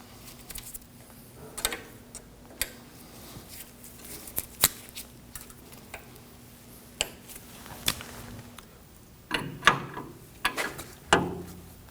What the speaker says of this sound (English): Go ahead and tighten down our jam nut.